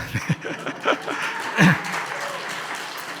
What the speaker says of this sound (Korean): 여러분 박수 치면 안 돼.